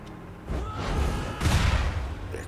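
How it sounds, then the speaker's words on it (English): Explosions from a sword-fired shell in the fantasy video game Guild Wars 2, two booming bursts in close succession with a rumbling tail, fairly loud. "Shoot a shell from your sword that explodes on the first enemy hit."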